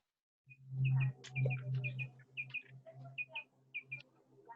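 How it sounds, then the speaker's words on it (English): Birds chirp in short, high tweets, faint and somewhat distant, over a low hum in the background. "I have birds outside my window"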